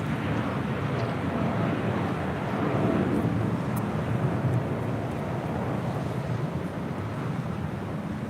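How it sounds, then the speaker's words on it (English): A United Airlines Boeing 787-10 Dreamliner departs from LAX, a steady broad jet roar that holds at a moderate distance throughout, with some wind noise on the microphone. "This is United Airlines Flight 39 departing to Tokyo Haneda on a 787-10 Dreamliner."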